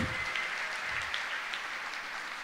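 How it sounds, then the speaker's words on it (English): Steady applause from an audience at a fashion tour event in Hyderabad, continuous and dense throughout, with the whole crowd clapping together at an even level. "Big round of applause."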